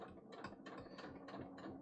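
A sewing machine stitches trousers and runs right over the clips, giving a fast, rhythmic mechanical chatter. The sound is steady, close and fairly quiet, with no voice.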